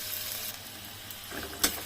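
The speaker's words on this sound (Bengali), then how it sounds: "পেঁয়াজগুলো আমার ভালো করে ভাজা হয়ে গেছে" Onions and garlic fry in a pan for a dried loitta fish curry, giving a faint, steady sizzle with a brief clatter of stirring near the end.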